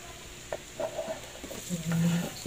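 Onions added to a frying pan after garlic, crackling and sizzling close by with a few stirring clatters and a brief hum underneath.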